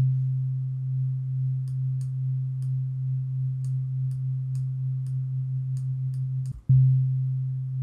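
A chiptune instrument plays a steady pure tone whose volume pulses in a repeating loop, set by looped envelope points, with a brief dip and restart near the end.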